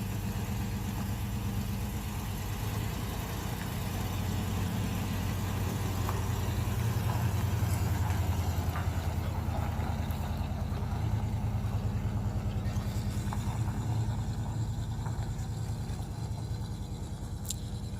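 An International Harvester Scout Traveler engine runs steadily at a low, rumbling idle, close by and continuous with little variation throughout.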